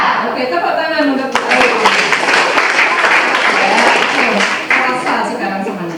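A crowd claps and applauds steadily for several seconds, loud and close, with voices cheering underneath.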